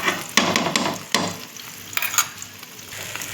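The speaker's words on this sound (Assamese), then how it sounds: "ধুনীয়াকৈ তেলখিনি গৰম হোৱাৰ পিছত দি দিছোঁ কণীখিনি।" Local eggs sizzling and frying into an omelette in hot oil, a steady crackling hiss with a few louder stirring scrapes, close by and without talk.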